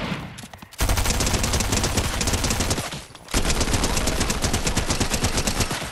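Loud, sustained automatic gunfire in the video game Fortnite, two long rapid bursts separated by a brief pause, close and with no talking.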